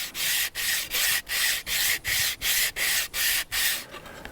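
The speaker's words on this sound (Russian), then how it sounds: "Наждачку берем сначала крупную, крупнозернистую, затем мелкозернистую для окончательной доводки" Wood being sanded by hand with sandpaper, about ten steady back-and-forth strokes in an even rhythm, close and loud, with no talk.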